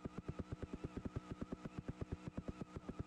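A tractor engine in BeamNG Drive lugs along in low gear, putting out a steady, loud, rapid train of deep chugging pulses with no talk over it.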